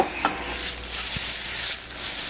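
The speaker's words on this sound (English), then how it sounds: "Also helps to caramelize the onions a little bit" Onions with a couple of teaspoons of sugar caramelizing in a pan, cooked down for Brussels sprouts with red grapes: a constant close hiss of sizzling with a brief stirring scrape early on and a soft knock midway.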